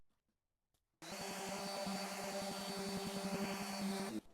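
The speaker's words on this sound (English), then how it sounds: "So now we're gonna start off with our 80 grit sandpaper." Sanding a wood board by hand with 80 grit sandpaper, a steady, close, loud rasping scrub with rapid back-and-forth strokes that starts abruptly after a second of silence and stops sharply, no voices.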